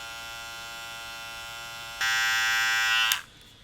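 A steady electric buzz of hair clippers running, growing louder and brighter partway through, then cutting off abruptly near the end.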